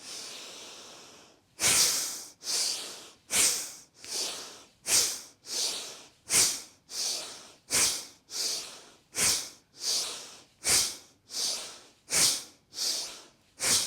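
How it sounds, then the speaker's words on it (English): Bhastrika yoga breathing: forceful nasal exhales pushing the belly in, about fifteen sharp, loud hissing bursts in a steady rhythm roughly every three-quarters of a second, close up and alone after a brief quiet breath. "We're going to practice the bhastrika breath."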